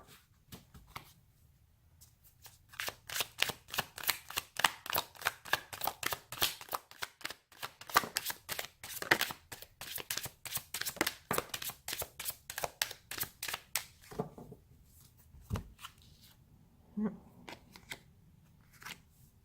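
Tarot cards are shuffled by hand in rapid bursts of crisp riffling and snapping, close and clear against a quiet room, pausing briefly before a few final taps and slides of the deck.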